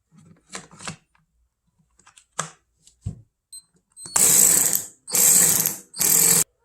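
A repaired AOBEN cordless ratchet gives three loud, close whirring bursts of about a second each, after some clicks and handling noises from fitting the battery.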